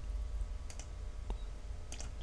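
Computer mouse clicking the Create button in VirtualBox: a few faint, sharp clicks spaced apart over a quiet, steady room hum.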